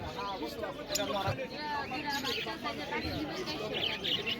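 Many budgerigars chirp and twitter in rapid, overlapping bursts at a busy bird market, with people talking and crowd babble throughout.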